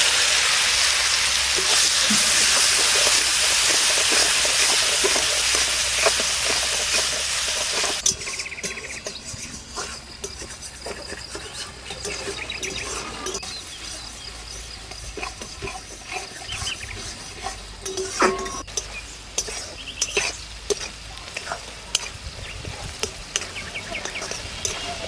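Chopped onion added to hot oil already tempered with cinnamon, cloves, cardamom, cumin and bay leaf, for a Bengali rohu fish curry. A loud hiss sizzles at first, then settles into softer, crackly frying with scattered pops.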